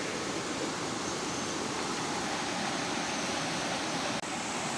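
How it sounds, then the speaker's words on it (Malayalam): A river flows below a hillside resort in Anakkampoyil, Kerala, swollen after light rain: a steady, dense broadband rush of water, continuous and fairly loud throughout, with no voices over it. "പുഴയുടെ ശബ്ദം കേൾക്കാം."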